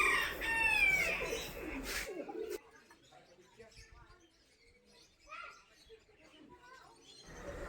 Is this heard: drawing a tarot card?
no